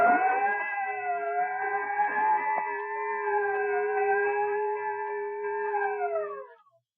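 A long wailing siren from a 1932 radio broadcast holds a steady, slightly wavering tone for several seconds, then winds down and fades out.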